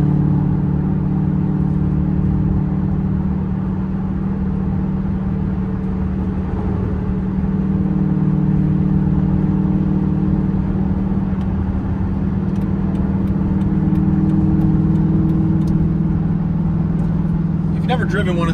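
A 2007 Dodge Magnum SRT8 with 14k miles cruises along steadily, its engine giving a continuous low rumble and whir heard from inside the cabin, with a voice talking over it throughout.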